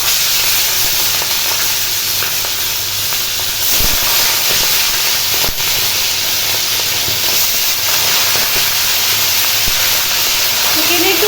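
Chicken pieces with a little water still on them fry in hot oil, a loud, close, steady sizzle and hissing sputter that persists throughout, with no speech.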